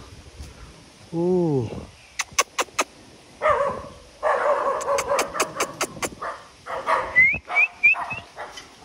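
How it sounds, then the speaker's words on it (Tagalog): Several dogs bark and yip in bursts inside an abandoned building, some high-pitched and whimpering, with sharp repeated barks close by and a few whistle-like tones. "Daming aso sa loob."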